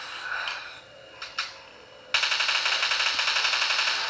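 Rapid gunfire from shooting zombies in the mobile game Dead Target on Windows Phone, a steady burst of evenly spaced loud shots starting abruptly after a few quieter game sounds.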